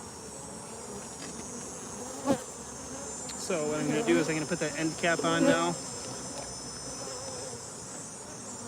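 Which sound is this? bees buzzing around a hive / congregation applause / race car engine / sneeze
bees buzzing around a hive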